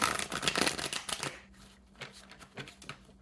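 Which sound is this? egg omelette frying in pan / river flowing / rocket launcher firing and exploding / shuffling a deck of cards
shuffling a deck of cards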